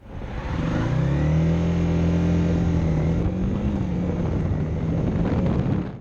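A motorcycle engine drones steadily while riding, its pitch rising and falling slightly, with wind rushing over the microphone throughout.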